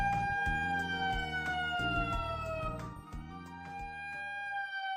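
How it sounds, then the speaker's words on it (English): Quarry blasting warning siren sounded in a final safety check before a blast, a faint wailing tone that slowly falls in pitch over a low rumbling, pulsing background, with no talk. "A final safety check is carried out and a final siren is sounded."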